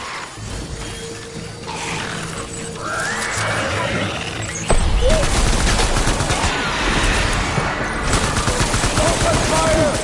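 Dense volley of gunfire in a PS4 war game, sustained bursts layered over a rumbling battle mix, growing louder and busier about halfway through, with faint voices mixed in.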